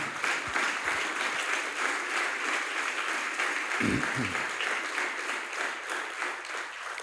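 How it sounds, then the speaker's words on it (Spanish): A church congregation at a Spanish-language worship service claps steadily throughout, a dense sustained wash of applause from many hands. "Denle un aplauso al Señor."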